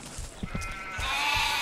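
Sheep bleating in a video game, a few short bleats in quick succession over a soft, steady background tone, fairly faint and with no talking.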